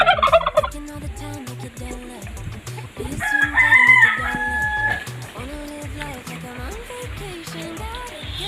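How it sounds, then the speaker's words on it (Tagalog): Rhode Island Red breeder chickens cluck and a rooster crows in a poultry yard, a steady run of close clucks with a louder crowing call partway through. "So ito naman po yung sunod yung ating vintage line na Rhode Island Red."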